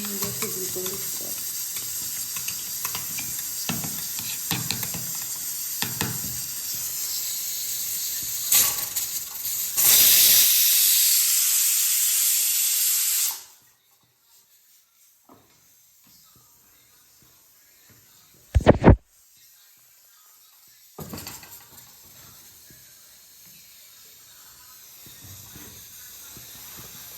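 Masala spices frying in a wok hiss and crackle with stirring scrapes, swelling into a loud burst of steamy sizzle before cutting to near silence, with a sharp clatter and a few faint stirs afterward.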